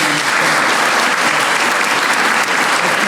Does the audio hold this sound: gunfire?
no